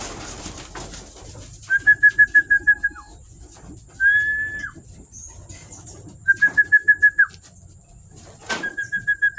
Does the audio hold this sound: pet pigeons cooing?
yes